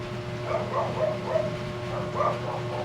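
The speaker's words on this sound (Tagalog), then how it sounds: "Kasi wala tayong magagawa sa pagtahol ng aso." Several dogs bark and yip in the distance, a string of short rhythmic barks over steady background hum, fairly faint.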